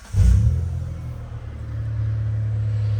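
A 1997 Mitsubishi GTO SR AWD, right-hand drive with automatic transmission, cranks briefly and fires up, then settles into a steady, close, fairly loud idle rumble with no talking.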